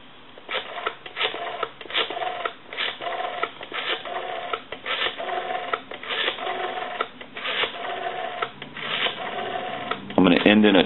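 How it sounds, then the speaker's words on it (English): Rapid runs of mechanical clicks from a Western Electric 202 rotary telephone dial turning and returning, repeating in steady bursts over a thin, phone-line tone, with a brief voice near the end. "Now what we want to do is dial our numbers."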